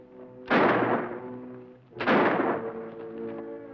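Two loud, echoing gunshots ring out about a second and a half apart in a western shootout, each decaying slowly over a low background hum.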